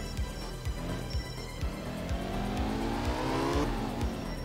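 A Porsche rally car in the video game Art of Rally revs hard, the engine note climbing through repeated gear shifts with rhythmic bursts, loud and close with no talking over it.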